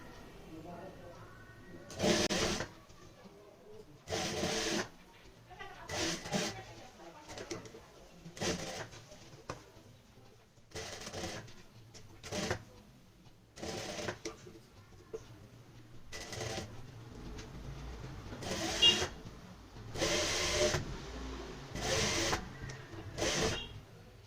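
Sewing machine stitching lace along the edge seam of a plain kurti neckline, running in repeated short bursts of whirring stitches with brief pauses between, fairly close, over a low background hum.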